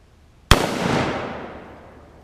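Single AK-47 rifle shot fired into wood outdoors in a backyard, one sharp loud crack followed by a long rolling echo that fades over about two seconds.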